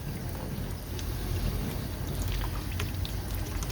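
Water trickling and dripping through a clogged printhead nozzle of an HP Photosmart inkjet printer during cleaning, a soft continuous flowing wash with faint drips and no talking.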